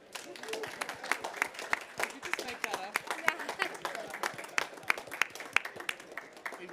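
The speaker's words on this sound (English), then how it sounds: "let's share a big clap for SOFF." Scattered clapping from a modest audience, individual claps audible in an uneven rhythm, steady for several seconds with a faint murmur beneath.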